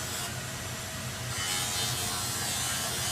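Buffing wheel running against a turned wooden tool knob loaded with Triple-E polishing compound, a steady close whirring rub with a low motor hum throughout, no talk.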